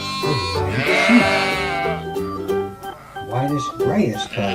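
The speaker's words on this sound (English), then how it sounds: "Sheep. A white sheep." A sheep lets out a long, wavering bleat near the start, clear and close, followed by shorter bleats mixed with someone talking.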